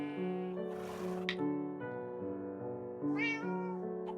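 A cat gives a long, drawn-out tonal meow, then a second rising meow. Both are close and clear, with a brief soft rustle in between.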